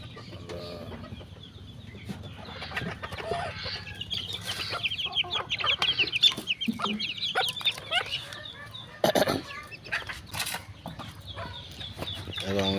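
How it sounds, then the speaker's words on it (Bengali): Several free-range native chickens cluck and chatter nearby in short, repeated bursts, with light rustling in the background. "এটা হচ্ছে দেশি মুরগি আর কি"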